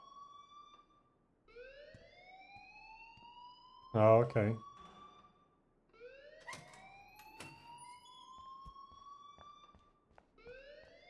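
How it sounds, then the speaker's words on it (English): An alarm wails in the video game Life is Strange, a repeating rising siren-like tone sweeping upward every few seconds, with a brief spoken voice partway through. "please turn off that alarm"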